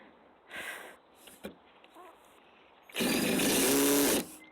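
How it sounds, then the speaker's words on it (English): A power drill or driver strains against screws going into a screen frame, with a short whir early on, then a loud sustained grinding burst of about a second and a half as a screw strips, close to the mic. "Stripping the hell out of screws."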